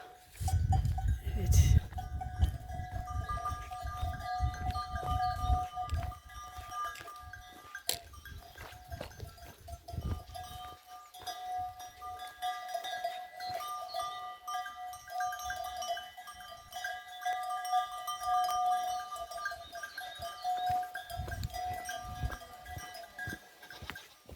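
Goat bells jingling and clanking irregularly as a herd moves about, with occasional bleats and some faint talk nearby.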